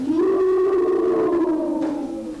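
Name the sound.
children imitating a cow mooing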